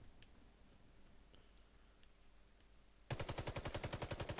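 CZ-75 pistol fire in the shooter game Warface, heard as a rapid string of loud, evenly spaced shots that bursts in abruptly after a quiet stretch of faint background ambience.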